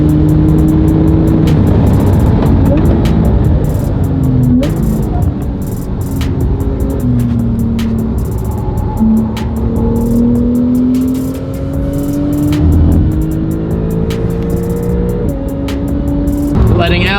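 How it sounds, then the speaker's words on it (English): Porsche 911 lapping a race track, heard from inside with a loud, continuous engine drone that repeatedly climbs in pitch through the gears and drops on shifts, with occasional clicks over the steady roar. "Gonna do some laps around the track with Taylor driving in the 911"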